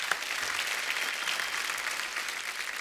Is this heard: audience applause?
yes